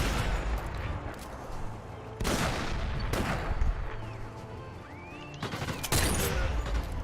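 Gunfire in the VR shooter Sniper Elite VR: three or four sharp, heavy shots with long booming tails, spaced a second or two apart over a steady battlefield background.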